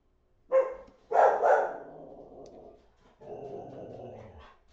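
A dog barks and growls at neighbours returning home from camping, with a sharp yelp followed by a sustained, rough growling bark, close and loud, with no talk over it.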